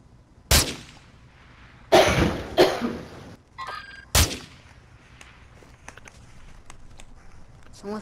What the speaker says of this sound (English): Someone's sniping again.